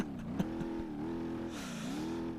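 A car in the BeamNG Drive video game, its chassis bent, revs steadily with a wavering engine tone while the wheels spin in place, continuous and fairly loud with no talk.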